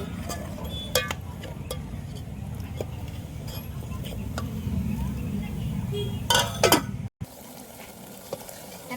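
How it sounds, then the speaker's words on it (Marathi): Ground masala is stirred and fried in a pot on a wood-fired village stove, a steady sizzling rasp with a few clinks of a spoon and a lid set down near the end, close by. "आता मस्त परतून घेऊ आणि आता त्याच्यात दोन मिनटं झाकण घेऊ"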